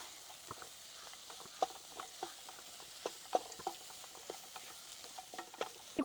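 Grated coconut is stirred and sautéed with onion and tomato in a pan for ennai kathirikkai, giving a soft steady sizzle broken by irregular scraping stirs and light taps, close and fairly quiet, with no talking.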